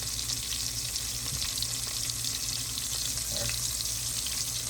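Buttermilk buffalo pork chops fry in a pan over low stovetop heat, giving a steady, even sizzle with faint crackles throughout and no talking.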